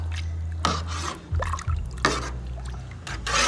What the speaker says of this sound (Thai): ใส่น้ำมะนาวลงไป